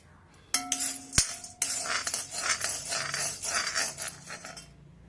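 Roasted gram (pottukadalai) being lightly stirred in a pan, with metallic clinks and scraping of a utensil against the pan followed by a steady rustling sizzle of dry lentils moving, close and fairly loud, no talk.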